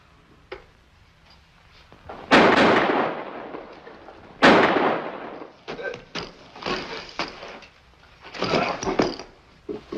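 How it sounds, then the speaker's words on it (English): Gunfire in a 1954 Western film, two sharp loud cracks a couple of seconds apart followed by smaller rapid bursts and scuffling noise. "Ballard just shot Johnson."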